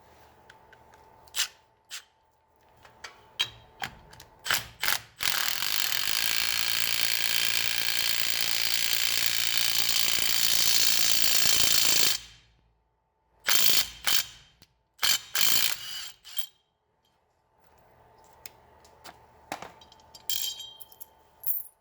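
A hand ratchet clicks steadily while tightening a lug nut to pull a new wheel stud into place on a 1967 Chevy C10 hub, with a long run of rapid pawl clicks and then shorter scattered bursts.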